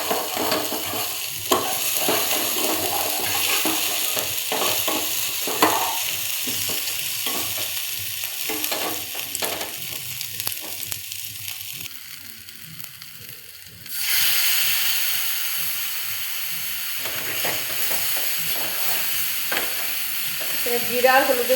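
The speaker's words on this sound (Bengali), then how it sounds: "এবার আলুটাও দেবো। আগে এখন এটা একটু ভাজা ভাজা হবে" Mashed potato and spices fry in a hot pan for a potato pakora, giving a loud steady sizzle broken by repeated stirring scrapes; the hiss drops briefly midway, then resumes strongly.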